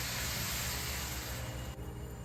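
Boiling water poured into a pan of mushroom kurma with turmeric, a steady faint hiss and sizzle that cuts off abruptly near the end.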